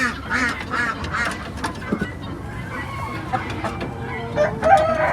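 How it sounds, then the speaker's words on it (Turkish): A farmyard hen clucks while laying an egg inside a coop, with repeated clucks and calls from several chickens and ducks, some crowing, close and moderately loud, while a person talks at times. "tavuğumuz şu anda yumurtluyor içeride."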